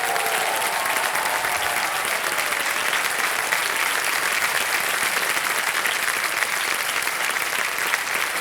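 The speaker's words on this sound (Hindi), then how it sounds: "वाह, ताली बज जाए इनके लिए।" A studio audience on a TV quiz show bursts into sustained, dense applause that stays loud and even throughout without breaks.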